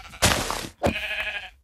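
Two sheep bleats from Minecraft, a long wavering call followed by a shorter one after a brief pause, loud and close with no talk.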